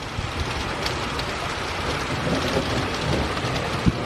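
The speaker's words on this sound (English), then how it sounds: "Rain's getting heavy." Heavy rain pours steadily during a severe electrical thunderstorm, a dense constant hiss with a faint low rumble and one brief sharp knock near the end.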